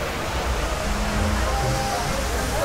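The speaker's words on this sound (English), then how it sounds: "It's almost blocking out the waterfall." Steady broadband rush of a waterfall in the rapids area of Alton Towers theme park, a continuous wash of water noise with faint background voices and low rumble underneath.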